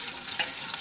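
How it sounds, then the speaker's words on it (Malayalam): Mustard seeds, garlic and green chilli frying in hot oil for an Onam sadya pickle, a brief, close, steady crackling sizzle with a couple of faint pops. "എണ്ണ ഒഴിച്ച് തിളച്ച് കടുകിട്ടു, വെളുത്തുള്ളി ഇട്ടു,"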